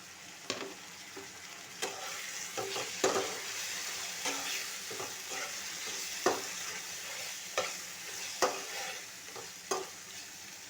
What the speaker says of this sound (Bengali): মশলার ভেতরে দিতে হবে কাটা ছাড়িয়ে রাখা লোটে মাছ